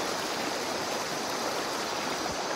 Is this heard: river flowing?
yes